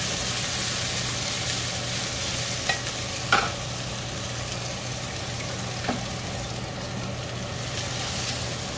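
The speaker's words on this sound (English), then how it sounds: "你可以先炒姜、葱、 green onion。" Ginger and green onion sizzle and hiss in hot oil while being stir-fried, a steady close frying sound broken by a few sharp scrapes of the spatula.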